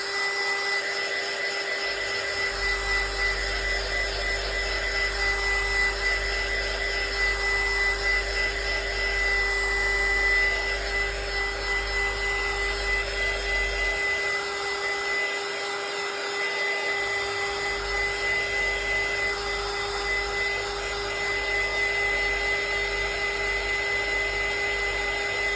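A handheld hair dryer blows steadily over a decoupage junk journal page for most of the stretch, with a brief cut-off mid-way before it starts up again, loud and close with no talking.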